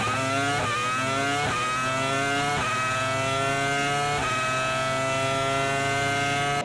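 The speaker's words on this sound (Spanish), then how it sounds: "el sonido que generaba el V6 turbohíbrido" Mercedes W11 Formula 1 car's V6 turbo-hybrid engine screaming at high revs, pitch climbing steadily through several quick upshifts with brief dips between gears, loud and continuous throughout.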